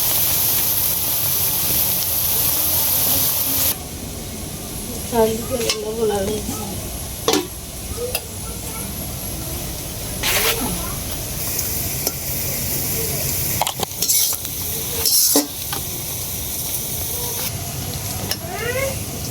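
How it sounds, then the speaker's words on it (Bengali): Onion and green chilies sizzling and frying in a pan while being stirred, a loud continuous sizzle with scraping stir strokes and clinks throughout, plus occasional brief voices in the background. "এখন আপনার পেঁয়াজ কাঁচামরিচ এগুলো একটু ভাজিয়ে নিতেছে আর কি"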